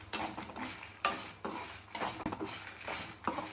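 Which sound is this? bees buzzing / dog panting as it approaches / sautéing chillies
sautéing chillies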